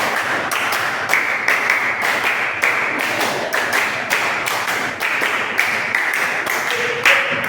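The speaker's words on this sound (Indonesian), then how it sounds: "Sesuai dengan tepuk tangan kalian yang penuh semangat" A classroom of children claps enthusiastically in a tepuk clapping game, a run of sharp, close, roughly regular group claps that repeats steadily from start to finish with no talking over it.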